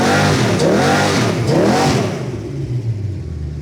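A Buick 350 V8 on a dynamometer revs hard through two rising, swooping pulls that sound nothing like stock, then drops back to a rumbling, lumpy idle, loud and close.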